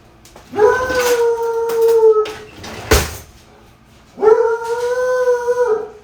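A dog howls in two long, rising wails close by, with a short bark or knock between them, reacting to someone outside the house.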